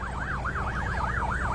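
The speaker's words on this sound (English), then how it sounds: "we are hearing a lot of sirens" An emergency siren wails steadily on a city street in Columbus, its pitch sweeping up and down in a regular cycle over a low rumble of traffic.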